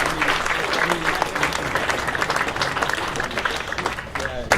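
An education research conference audience applauds the faculty with sustained, lively clapping from a crowd, while a voice speaks over the ovation.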